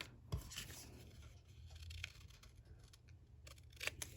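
Scissors snipping paper pieces at an angle for a mini album, a few soft close cuts and rustles against a faint, noisy room background, no speech.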